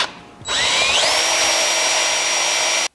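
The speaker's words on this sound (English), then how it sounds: "is drill that hole for my jig." A power drill spins up and bores steadily through wood for about two seconds, loud and close, its pitch rising as it gets up to speed, then stops.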